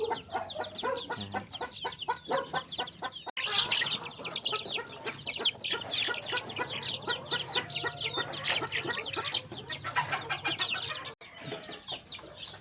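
Shamo and Aseel chickens cluck busily and continuously at close range, a dense overlapping chatter of many birds in a farm pen.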